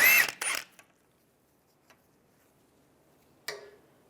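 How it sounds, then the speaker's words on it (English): A 17mm socket ratchets a wheel lock off a Volkswagen Beetle, with a few sharp close clicks at the start, a faint tick in the quiet middle, and one more metallic click near the end. "find your wheel lock, take that off first using a 17mm socket."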